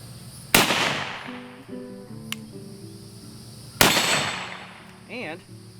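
A Remington Model 81 rifle fires two sharp, loud cracks a few seconds apart, each trailing off in a ringing decay, with a short voice heard between and after the shots.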